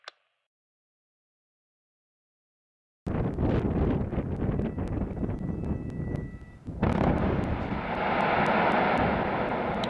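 A blasting charge fired in a quarry or mine: after about three seconds of silence, a sudden loud roar breaks out and rumbles on, swelling again into a second heavy surge of broadband rushing noise.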